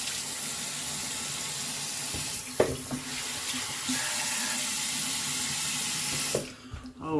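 Tap water runs steadily into a sink as a man rinses his face after a shave, a constant broadband rush with a few small splashes and knocks, cutting off near the end.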